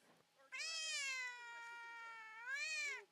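A cat lets out a loud, sustained meow lasting over two seconds, rising sharply at the start and at the end, heard close up in a quiet room.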